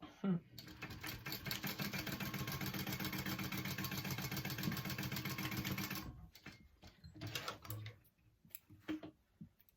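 Sewing machine top stitching a fabric pouch, a fast steady mechanical whirr of the needle running for several seconds, then stopping, followed by quieter handling sounds and a voice talking.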